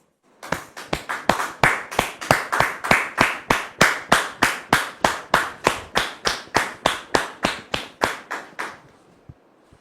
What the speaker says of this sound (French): Merci de recevoir maintenant Ruth sous vos applaudissements